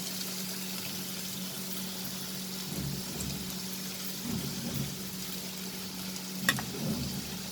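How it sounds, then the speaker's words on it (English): Chopped onions sautéing in a pan over a medium-high flame for a prawn keema, a quiet, constant sizzle with occasional stirring scrapes and one brief clink. "Saute the onion for a minute."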